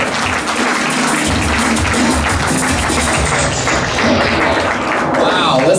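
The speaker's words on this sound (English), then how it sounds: "listen to that smattering of half fucking super weak applause" Thin, scattered applause from an audience in the Comedy Store main room at a Kill Tony comedy show, a steady patter of claps with a murmuring crowd beneath it.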